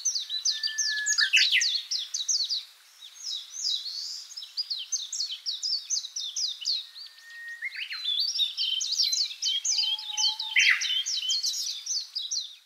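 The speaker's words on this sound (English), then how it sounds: "listen for the very pretty little warbly sound. I think it's the Uguisu bird" A Japanese bush warbler (uguisu) sings in Japan, a long run of rapid, high warbling phrases, clear and close, with brief pauses between bursts and a quiet background.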